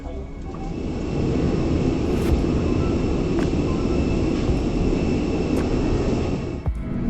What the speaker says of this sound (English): So we are hoping for a safe takeoff